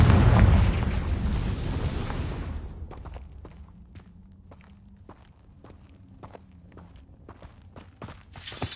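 A Confringo spell explosion in Hogwarts Legacy: a loud booming blast that fades over a few seconds, then a series of sharp clicks and light impacts, with no talking.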